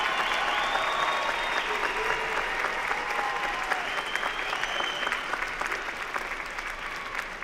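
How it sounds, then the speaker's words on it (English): A large commencement crowd applauds graduates in a continuous, dense wave of clapping that stays loud and even, slowly easing near the end, with faint cheers mixed in. "Let's have a round of applause for our 2025 doctoral and master's degree graduates."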